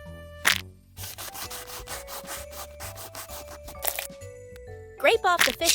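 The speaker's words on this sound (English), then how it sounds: "Scrape off the fish scales." Rhythmic scraping strokes as scales are scraped off a whole fish, short repeated rasps in quick succession, with a steady background tone and a couple of sharper knocks.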